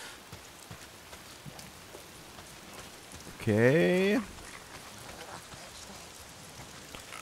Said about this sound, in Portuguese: Tá sempre chovendo.